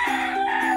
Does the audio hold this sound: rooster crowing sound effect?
yes